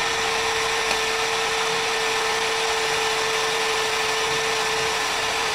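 A DongCheng 12V cordless brushless impact drill (DCJZ1250i), fitted with a steel bit in drilling mode at speed 2, bores into a 4 mm steel plate with a steady, loud, continuous whine and no talking.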